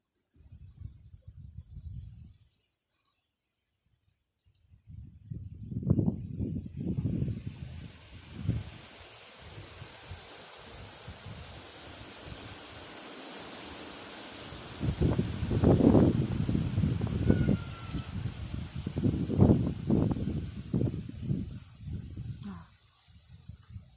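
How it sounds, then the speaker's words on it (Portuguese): Wind picks up outdoors and pushes through plants in gusts, with a broad airy whoosh and dense rustling of leaves and stems that swells, eases briefly, then builds again close to the microphone. "O vento tá aumentando aqui."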